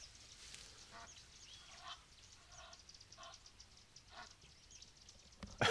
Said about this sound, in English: the Egyptian geese shouting.